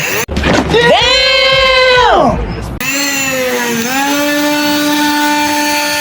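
A power nail grinder whines loudly and close by, filing down a damaged nail in a steady motorized tone whose pitch sags and recovers as it bears down, running continuously almost throughout.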